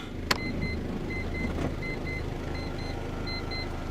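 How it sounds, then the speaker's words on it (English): An electric motor raises a campervan's pop-up roof with a steady whirr, heard over the idling engine while a repeating electronic beep pulses along with it. "the roof starts to raise"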